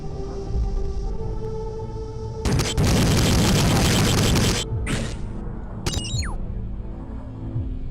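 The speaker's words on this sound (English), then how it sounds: "Somebody shooting at me" Gunfire and blasts in the 1996 PC shooter Eradicator, a loud sustained roaring burst followed by a couple of sharp reports and a whistling trail, over a low game hum with no talk.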